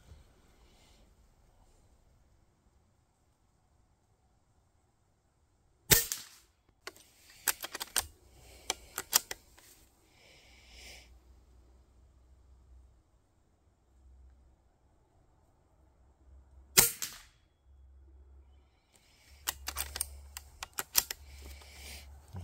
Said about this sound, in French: on va tirer le centre de la cible